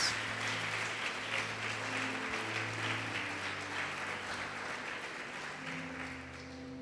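A church congregation applauding and glorifying during a sermon, a soft, steady wash of distant clapping under a sustained low musical hum from a keyboard or organ.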